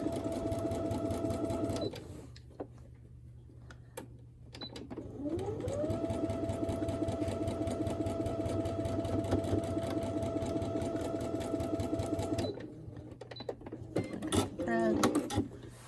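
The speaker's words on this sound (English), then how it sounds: "So I'm going to go back to my machine with my 1/4 inch foot. Sew that." A sewing machine stitches quilt patches for a 64-patch postage stamp block using a 1/4 inch foot, whirring steadily in long close runs with brief pauses and a few clicks between, loud and continuous.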